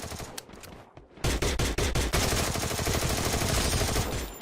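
Gunfire in the video game Free Fire, with a few sharp shots followed by a rapid, dense burst of automatic fire that continues loudly to the end.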